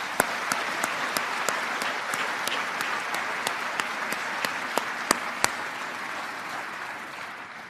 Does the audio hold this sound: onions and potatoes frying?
no